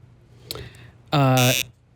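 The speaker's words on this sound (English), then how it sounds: "Again, with the polite buzzer." A short, loud electronic buzz with a harmonic tone sounds once for about half a second, following a brief faint voice.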